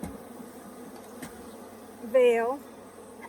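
Africanized hybrid honey bees buzz faintly around an open hive under inspection, then one loud bee whines close past for about half a second, with a brief spoken word near the start.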